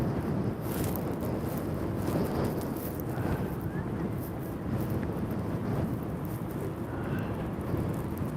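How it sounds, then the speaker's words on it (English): Heavy wind buffets the microphone while riding an electric mountain bike along city streets, a loud, constant low roar with gusty rumbling throughout. "That wind is crazy."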